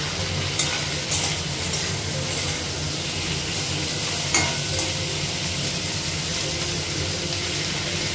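Green chillies frying in a pan and being stirred, a steady broadband sizzle with occasional scraping stirs, close and continuous throughout.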